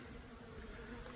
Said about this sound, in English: I have a bee right in the middle of my mask